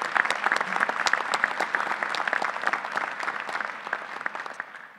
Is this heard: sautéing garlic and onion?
no